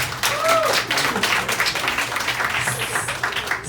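Applause from an audience at a gathering marking ten years since the 2012 student strike in Quebec, a steady mass of clapping that continues for several seconds with faint voices mixed in.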